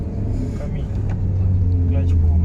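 A car engine hums low and steady inside the cabin, rising slightly as a learner driver works the accelerator and clutch, with an instructor talking over it.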